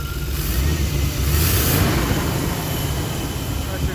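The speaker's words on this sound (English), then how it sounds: "You can hear the idle dropped." A throttle body injected engine idling at a lowered speed, a steady low rumble with a faint belt shimmy, close and continuous under background noise, no talk.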